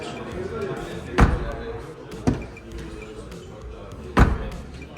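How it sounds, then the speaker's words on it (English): Three sharp, heavy thuds of a Peugeot E-3008 electric crossover's door shutting, spaced a second or two apart, over a low background murmur. "let's hear the door closing sound"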